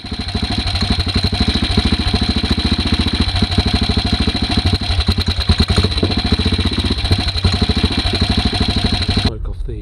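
A BSA Gold Star motorcycle single-cylinder engine runs loud and close at a steady, rapid thumping idle after rocker box oil leak repairs, cutting off abruptly near the end.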